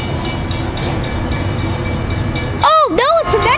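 A Metrolink commuter train approaches, its rumble building steadily before a loud two-tone horn blast sounds near the end, close by, with a person's voice heard briefly.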